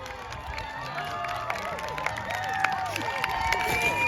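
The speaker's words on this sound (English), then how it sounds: "Everyone is cheering up there." A distant crowd cheers and whoops on Primrose Hill, London, after a proposal, with scattered shouts and claps rising over open-air background noise.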